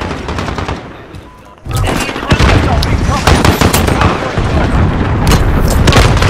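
Loud, dense automatic gunfire rattles through a first-person shooter game, with rapid overlapping shots and booms that continue almost without pause after a brief quieter opening.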